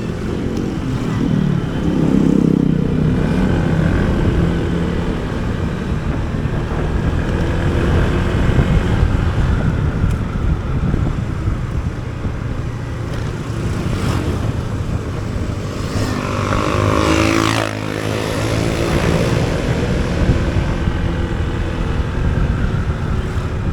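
A Honda ADV 160 ABS motorcycle ridden along hilly rural roads, its steady engine drone continuous and close throughout, mixed with heavy wind buffeting.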